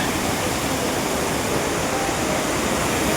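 Malana river rushing in full flow with clear water, a side stream joining from above; a loud, steady, close roar of churning water fills the whole stretch with no voices.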